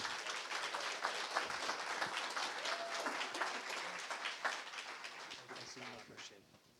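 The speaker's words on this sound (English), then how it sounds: "Please give him a huge round of applause, Mr. McDonald." An audience at a Summer Creek High School gathering applauds the principal, a fairly quiet, steady patter of clapping with voices mixed in that fades toward the end.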